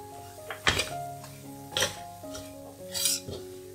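Spatula scraping and clanking in a wok while curry powder is stir-fried for a vegetable curry, a few sharp metallic strikes over a steady low kitchen hum, close and fairly loud.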